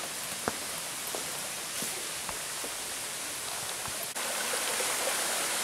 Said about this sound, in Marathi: पाण्याचे एक छोटीशी अशा वाहतं पाणी लागतं.